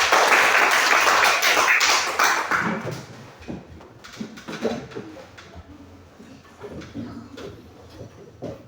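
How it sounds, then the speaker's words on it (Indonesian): Audience applause at a gathering, a burst of loud clapping that fades within a few seconds into scattered, thinning claps and faint room noise. "Semua tepuk tangan dulu buat ini Novel."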